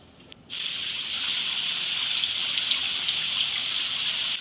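Steady rainfall begins abruptly after a brief quiet moment, then holds as a dense, even hiss with scattered droplet pattering, close and fairly loud, with no voices.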